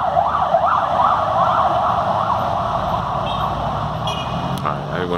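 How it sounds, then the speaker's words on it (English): An ambulance siren wails loudly as it passes on a street, its rising and falling tone steady throughout, with someone speaking underneath. "Let me let this ambulance pass."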